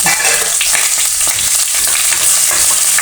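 Whole coriander seeds, cumin, cloves, black peppercorns, a cinnamon piece, black cardamom and green cardamom roast in a hot pan, making a loud, continuous close-up sizzle with crackles and stirring.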